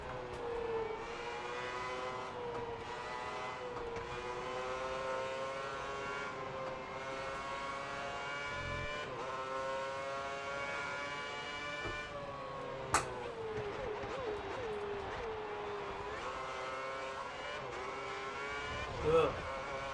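Fernando Alonso's Ferrari race car in the F1 2010 video game drones with a steady, high-revving engine whine that rises through gear changes, heard continuously at moderate loudness.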